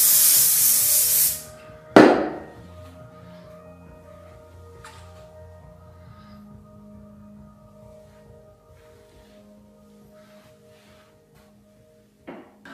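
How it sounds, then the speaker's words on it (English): A short, loud burst of hair spray hisses over a man's hair at home, followed by a second brief spray, then quieter rustling and faint handling sounds. "And then you're just gonna spray it a little bit more."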